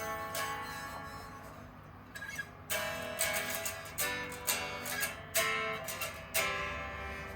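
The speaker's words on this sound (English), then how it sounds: "So here's the sound of it acoustically in your hotel room." A Yamaha Silent Guitar strummed unplugged in a quiet hotel room, giving a thin, soft acoustic tone. Several strums and short chord hits ring quietly with gaps between them, close to the listener and with no voices.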